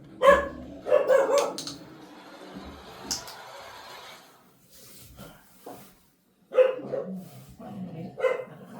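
Several dog barks ring out in bursts, with quieter rustling and handling noises between them.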